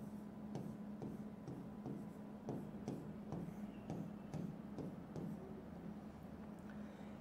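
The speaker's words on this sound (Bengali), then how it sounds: "আমি একটু মুছে লিখছি।" Chalk or marker strokes on a classroom board come as a steady series of rhythmic taps and scrapes under a constant low hum, without speech.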